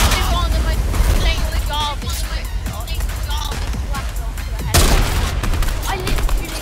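Rapid bursts of gunfire in the Fortnite battle royale game, squads mode, crackling loudly and continuously for several seconds with a heavier blast near the end, while players talk over it.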